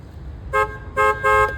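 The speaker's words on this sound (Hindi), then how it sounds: "आवाज़ भी तेज़ हो गई, हॉर्न सेट भी हो गया with just tightening this bolt" A Daihatsu Cuore's Chinese-made horn, freshly tightened at its mounting bolt, sounds three loud, clear honks close by, the last held slightly longer, over a low background hum.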